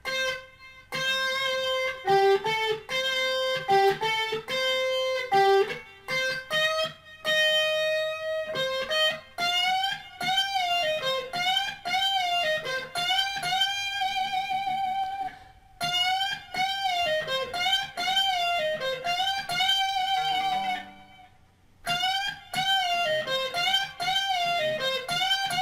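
Electric guitar notes are bent up a full step again and again and held with vibrato, in phrases broken by short pauses.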